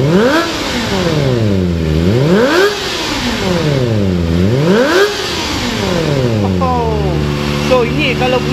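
A Modenas ZX-25R motorcycle fitted with an iStun Racing slip-on exhaust revs repeatedly, each throttle blip rising to a high scream and falling back, three big sweeps followed by quicker shorter revs, loud and close.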